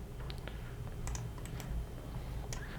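A computer keyboard is pressed for a Ctrl+U shortcut in CATIA V5 weld design software, giving a few light, scattered key clicks over a steady low background hum, close but quiet, with no talking.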